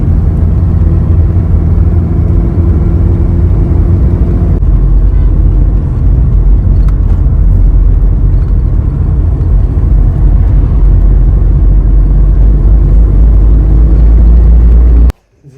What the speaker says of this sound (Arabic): هذا الموتور طحين.